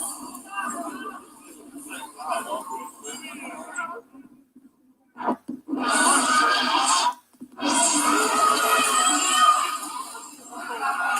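Agitated crowd at an election day riot, shouting voices and street noise coming in loud bursts with short drops to near silence, some distant yelling and possible screams mixed in.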